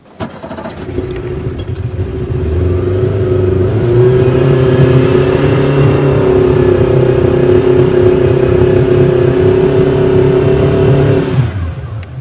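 A boat engine runs steadily at close range, its low droning hum building in the first few seconds and holding level before cutting off near the end.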